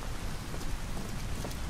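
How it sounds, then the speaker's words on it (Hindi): Steady rain from the video game Detroit: Become Human falls as a dense, continuous hiss with a low rumbling undertone, no voices. "यहाँ पर बारिश का मौसम, बड़ा ही गंदा मौसम"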